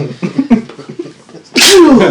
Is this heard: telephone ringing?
no